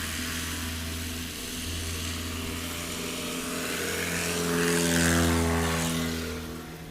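A STOL propeller airplane at a short-takeoff competition at Patriot Airpark runs at full power, its loud droning engine and prop buzz swelling as it draws nearer, peaking, then easing slightly, with no speech.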